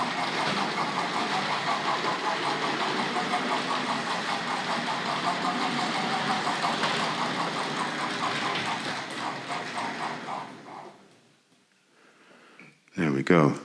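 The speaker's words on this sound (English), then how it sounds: "benefiting from the chuff chuff sound here." Hornby Southern Class L1 model locomotive running with its chuff sound effect, a fast steady rhythmic chuffing over a motor whir for about ten seconds, then fading out before a short burst of noise at the end.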